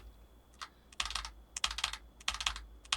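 Computer keyboard keys tapped in quick rhythmic bursts for a game combo, three clustered volleys of crisp clicks with short pauses between, close and fairly soft.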